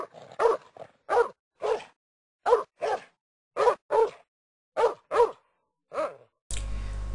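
A dog barks repeatedly in short, sharp bursts with brief pauses between them, close and clear, followed by a burst of static at the end.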